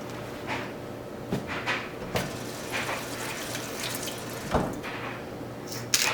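Water runs steadily from a kitchen tap while hands are washed, a close, even splash with small bumps and shifts in the flow throughout.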